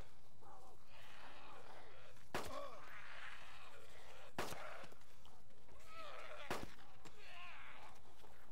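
Three sharp, loud gunshots from the DayZ video game ring out at wide, even intervals over a steady background of ambient game noise and faint activity.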